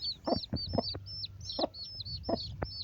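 A mother hen and her newly hatched chicks, a third batch, with high chick peeps repeating above low clucks in irregular bursts, close and fairly clear, with no talking.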